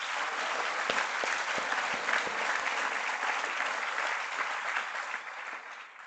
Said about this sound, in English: Let's give him a big clap to say thank you from us.